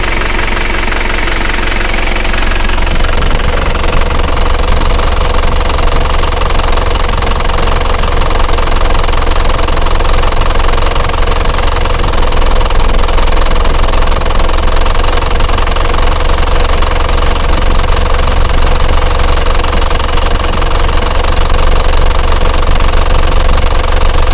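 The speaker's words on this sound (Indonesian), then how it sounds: "ini kalau menurutku udah pas mbak, udah nggak getar, juga nggak terlalu tinggi" An Isuzu Panther diesel engine idles steadily after its idle RPM is adjusted, a loud, close, even knocking rumble that holds constant throughout with no voices.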